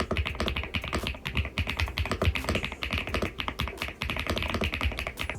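A budget QWERTY computer keyboard is typed on rapidly and close up, producing a dense, continuous patter of crisp keystrokes with no talking.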